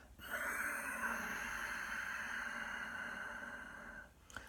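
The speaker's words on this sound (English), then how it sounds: "that soft, silky, sighing, whistling Ujjayi breath from the back of the throat" Long, steady raspy exhale drawn from the back of the throat in Ujjayi yoga breathing, a hissing, whistling breath held for about four seconds, close and fairly quiet, with no talking.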